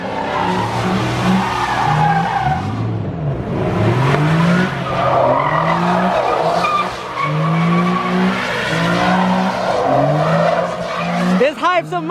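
A Ford Mustang at a car meet loses control and skids, its tires squealing loudly and continuously as the engine revs, with shouting and talk over it.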